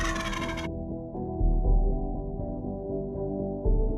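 Wild turkeys gobbling in spring woods at sunrise, a few loud resonant bursts over a low, busy background, with a bright harmonic call opening the clip, no talking.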